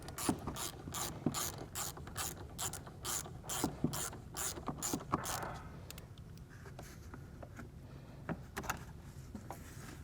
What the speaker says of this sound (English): we can remove the negative terminal on the battery. This will be a 10mm socket with a short extension.